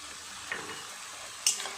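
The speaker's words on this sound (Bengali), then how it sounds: "খুব ভালো করে নেড়ে চেড়ে আবারও ঢাকা দিয়ে রান্না হতে দেব।" Taro stolon curry cooked with prawns, stirred in a pot: a quiet simmering hiss broken by two brief scrapes of the spoon, close by, no voices.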